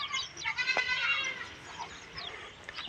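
Goats on a semi-confined goat farm bleat loudly nearby, a few overlapping wavering calls in the first second and a half, then fainter bleats trailing off.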